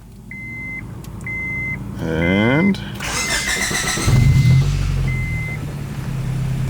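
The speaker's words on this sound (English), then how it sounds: "We're gonna go in here, start her up, and see how she runs." A Honda Prelude engine cranks with a rising starter whine, catches, and settles into a low idle rumble, with dashboard beeps before and after and a voice speaking briefly.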